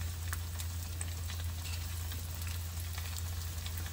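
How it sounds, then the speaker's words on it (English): Fish frying in a well-seasoned wok: a steady, close hiss of sizzling oil with scattered crackles and pops, continuous and alone over a low hum. "I just like using a wok because it's very well contained, and the fish doesn't really stick to the sides either"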